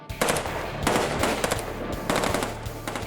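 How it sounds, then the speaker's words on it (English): Fully automatic weapons fire in rapid, loud bursts at a car armored with phone books as it rolls through a line of fire. Dense rattling volleys come with brief gaps between them. "The guns blaze and the phone book confetti flies."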